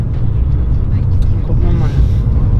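A BMW M5 F90 accelerating in fourth gear, its engine a low steady drone heard from inside the cabin, with someone talking over it.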